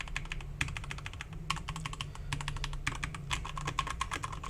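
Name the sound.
mechanical keyboard typing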